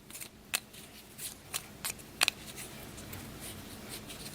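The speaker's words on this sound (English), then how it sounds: "We'll give those a shuffle, since it does specify to randomize them." Detonator cards from the Valkyrie: A Black Orchestra board game being shuffled, a handful of brief papery riffles and taps spaced across a quiet tabletop, close and soft with no talking.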